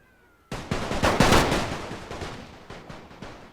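A ragged volley of rifle fire in a World War I strategy game, a dense burst of overlapping cracks that swells and then thins into scattered shots fading away, with no talking.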